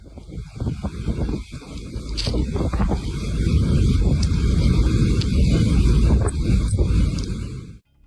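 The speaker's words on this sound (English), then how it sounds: "This is what the powerful blizzard that hit the Sierra Nevada in spring 2024 looked like up close, with wind gusts reaching 31 meters per second." Blizzard winds with gusts up to 31 meters per second roar across the Sierra Nevada in spring 2024, a loud, buffeting rumble that builds and sustains before abruptly cutting off.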